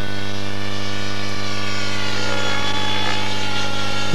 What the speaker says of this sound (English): There's a nice point roll, 4-point roll by a helicopter.